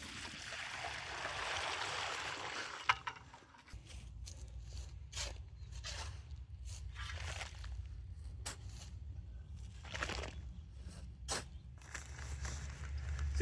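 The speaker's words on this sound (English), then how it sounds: "it's time to put 5 gallons of water in." About five gallons of water are poured into the planting hole around a newly planted cherry tree. A steady gushing pour lasts a few seconds, then quieter trickling, scraping and footstep-like rustles follow.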